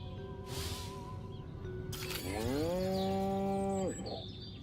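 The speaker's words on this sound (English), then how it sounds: "Again with the moo." A cow moos in an alien-invasion action game, one long, loud, drawn-out low moo over steady rural background ambience, with a brief whooshing effect just before it.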